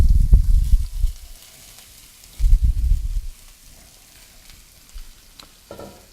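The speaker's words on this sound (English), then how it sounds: "what's nice about that water hitting that oil makes that sizzling sound" Chopped onion sizzles in hot oil where water hits the pan, coming in two loud bursts of crackling sizzle that then settle into a faint, steady fry.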